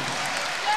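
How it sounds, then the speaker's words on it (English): Crowd applause at a college women's volleyball match: a brief, dense wash of steady clapping with no single claps standing out. "the crowd here really applauds the efforts"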